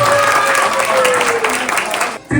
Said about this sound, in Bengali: শুভমের জন্য একটা জোরে হাততালি।